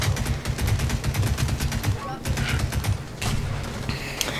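Rapid automatic bursts from an MP40 9mm submachine gun in the World War II shooter Pavlov, a loud continuous rattle of shots with brief pauses between strings.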